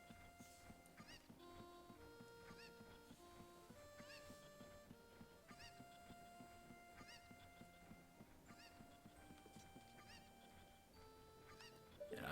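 Scattered chicken clucks in Zelda: Ocarina of Time, faint and intermittent beneath a looping melodic game soundtrack.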